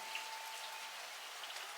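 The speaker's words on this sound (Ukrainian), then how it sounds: "Йде дощик." Light rain falls outside at night, a soft steady patter of drops on a surface, faint and even throughout with no voices.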